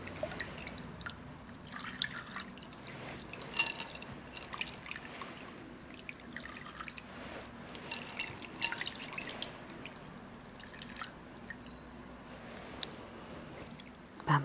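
Rose water poured and dripping during a hands-on massage, with soft continuous trickling and dripping close up, quiet and steady throughout.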